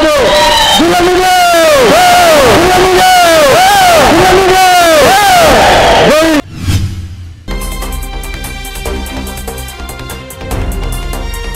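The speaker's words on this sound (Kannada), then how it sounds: "ಅದೆಲ್ಲರೂ ಜೈಕಾರ ಹಾಕಬೇಕು" A crowd at a community gathering in Hosadurga chants cheers and slogans in loud rhythmic unison, repeated call-and-response shouts for several seconds before giving way to music.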